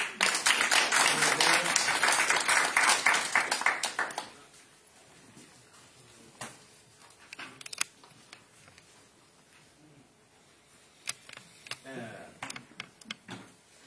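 A church congregation at a Sunday service applauds in a burst of dense clapping that lasts about four seconds and then stops abruptly, followed by quiet room sounds, scattered taps and faint murmuring.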